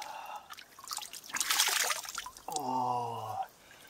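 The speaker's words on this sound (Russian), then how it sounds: "родник с прохладной водой" Cool spring water trickling from a mountain source after a descent in hot weather, a soft steady liquid dribble up close with a brief groan-like voice sound near the end.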